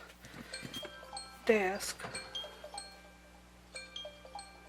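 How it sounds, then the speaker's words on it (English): A repeating electronic alarm tone beeps in short tonal bursts, with a brief louder rise midway, and a voice speaks faintly underneath. "That's my alarm going off telling me that I'm"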